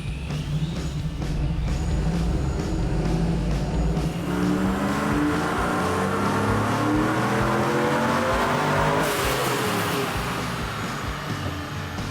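A supercharged Chevrolet Trailblazer SS engine revs hard in first gear during a drift course run, a loud, continuous roar that climbs in pitch as it accelerates and then rises again with a second surge, with no voices over it.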